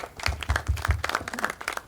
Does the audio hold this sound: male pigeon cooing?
no